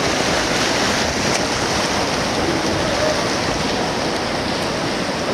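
Rushing rapids on the Animas River near Durango surge around a raft in a loud, steady roar of water that fills the whole stretch, with no clear speech.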